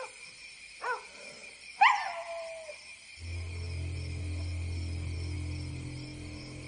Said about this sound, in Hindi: इतना क्यों भौंक रहे हो?